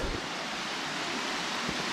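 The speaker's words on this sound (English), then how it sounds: "So here is this magnificent waterfall I'm talking about." Waterfall in the Pentland Hills, a steady broadband rush of falling water heard up close, continuous and even with no voices.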